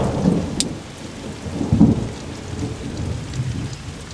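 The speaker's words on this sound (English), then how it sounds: "Did you hear that thunder?" Thunder and rain outdoors in Scotland, steady hissing rainfall with deep rolling rumbles of thunder swelling twice, fairly loud and close with no voices.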